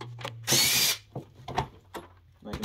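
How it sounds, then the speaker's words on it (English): A power drill spins briefly to back out screws from a sump pit cover lid, one short whirring burst followed by scattered clicks and handling knocks and some nearby talk. "And now I'm gonna unscrew the lid."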